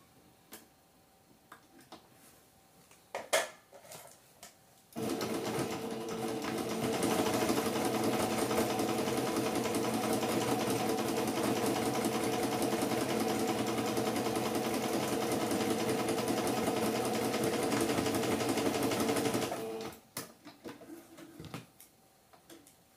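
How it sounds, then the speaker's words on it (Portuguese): A sewing machine runs in one steady, close stitching burst of about fifteen seconds, sewing a straight seam across a fabric lining for a crazy patchwork wallet, with quiet handling clicks before and after. "passar uma costura pé de máquina aqui em cima"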